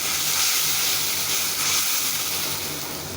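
Water hits a hot pan of fried spices, ginger-garlic paste, chili, coriander and salt, for a rohu fish curry with potato and greens stems, producing a loud, sustained steamy hiss that slowly fades.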